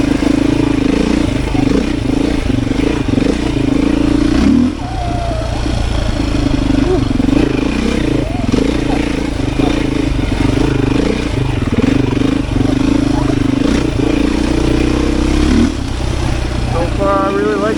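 A Beta 500 RS dirt bike roars loud and steady while riding over sand, its engine droning continuously with slight rises and dips in revs and some mechanical clatter.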